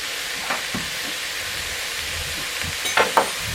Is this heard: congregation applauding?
no